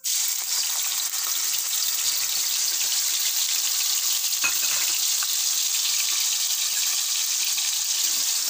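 Chopped onion hits hot oil with ajwain in a pan for an aloo paneer matar curry, giving a steady, dense sizzle that holds evenly throughout with no talking.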